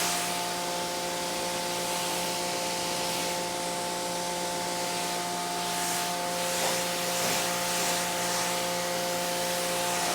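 Water spray rinses soap foam off a car, a continuous, even hiss of spray that stays unbroken throughout.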